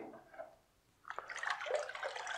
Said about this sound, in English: let's just add a little splash of water and we'll spin it up